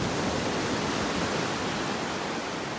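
Broad, steady wash of small ocean waves at a North Naples, Florida beach on a rough morning, a loud continuous roar of surf and wind with no distinct breaks or voices.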